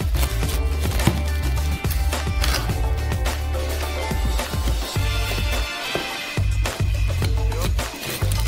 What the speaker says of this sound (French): Allez, on va couper une tranche.